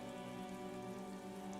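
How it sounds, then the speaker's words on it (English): Rain falls in the video game Disco Elysium as a soft, steady patter, faint and continuous with a low sustained hum underneath and no speech. "A silvery curtain of rain over the houses."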